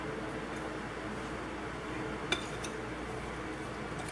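Currant roll batter is mixed in a bowl, a steady, dense scraping hiss with a single small clink partway through.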